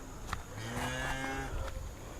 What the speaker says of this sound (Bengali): গরু আছে